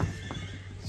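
A Kyrgyz horse foal gives a short, close whinny, heard alone in a brief burst.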